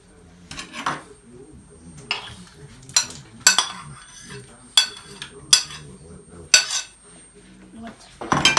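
Tomatoes go into a pot of simmering cabbage soup (shchi) with potatoes and meat, heard as a series of loud metallic clanks and clinks of a utensil against the pot, spaced irregularly between quiet gaps.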